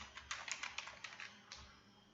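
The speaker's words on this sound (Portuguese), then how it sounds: "Digitei o nome e Enter." A short burst of quick keystrokes on a computer keyboard as a folder name is typed in Windows, close and fairly quiet, about a dozen clicks in an uneven rhythm.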